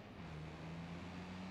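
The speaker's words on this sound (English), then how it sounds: "Some of these cars get really loud." A car engine hums steadily while driving in the video game Watch Dogs 2, a low sustained drone with faint road noise, quiet and alone.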